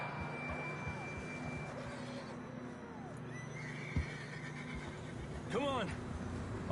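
Horse in the open-world western game Red Dead Redemption 2 gives two whinnies, the first high and long, the second a sharp, rising neigh near the end, over soft ambient noise with occasional hoof thuds.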